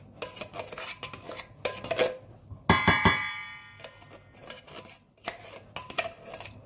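A spoon clinks and scrapes against a metal bowl while coconut milk is stirred into a cassava suman mixture, with intermittent clattering strokes and one brighter ringing knock in the middle, heard close up with no talking.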